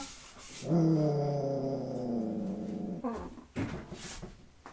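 A dog makes a long, drawn-out whimpering whine that slides in pitch, followed by shorter growling and whining bursts, fairly close and alone without talk.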